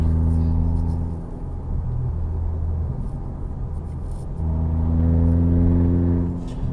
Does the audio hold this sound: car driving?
yes